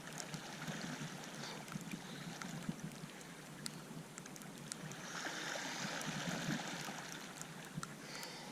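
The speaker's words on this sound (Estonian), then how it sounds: "see on külm jõgi" Cold spring-fed river near the Paide springs flowing steadily, a continuous broadband rush and trickle of water with small splashy accents, moderately close and unbroken throughout.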